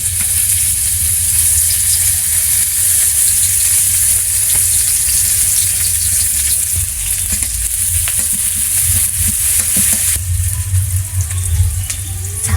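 Ground leafy greens paste cooking in a pan, a loud, continuous, close sizzle with occasional stirring and no voices.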